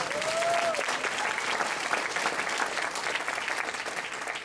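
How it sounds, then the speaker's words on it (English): An audience at a comedy night graduation show applauds for Adrian, a dense, steady wash of clapping that holds at full strength throughout, with a brief sustained tone near the start. "One more big round of applause for Adrian"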